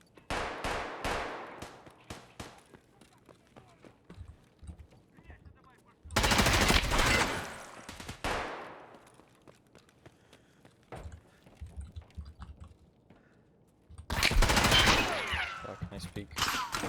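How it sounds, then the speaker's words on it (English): Grenade launcher and other weapons firing in a PvP shooter game, two loud bursts of blasts separated by quieter stretches of rapid shots, footsteps and speech. "With a grenade launcher."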